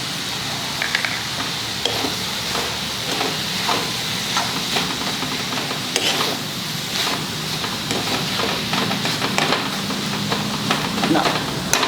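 Masala frying with dried Bombay duck fish, a continuous bright hissing sizzle with scattered crackles and scraping of a stirring spoon, steady and fairly loud throughout.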